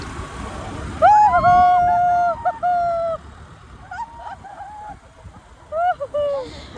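A woman whistles loud, near, sustained tones, a long held note followed by shorter bursts and a final rising whistle, with quiet pauses between, on a picnic outing with friends.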